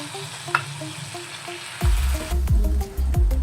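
Prawns frying in a pan start as a quiet sizzle, then turn loud and close with a heavy crackling fry and sharp scraping stirs at irregular intervals, with no voices.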